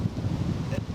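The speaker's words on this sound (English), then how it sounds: "Gosh, it's windy" Strong wind buffets a wild camp with a poncho shelter, a steady low roaring rush with gusty swells that presses against the microphone throughout.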